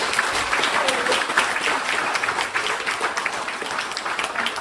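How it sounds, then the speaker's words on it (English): Crowd applause fills the Barrowland Ballroom in Glasgow at a live celebration show, a steady, dense wash of clapping that holds strong throughout with faint voices mixed in. "Can you just give a round of applause for Chris and Mitch?"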